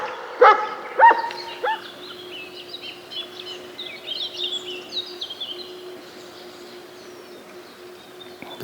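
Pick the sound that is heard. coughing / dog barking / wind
dog barking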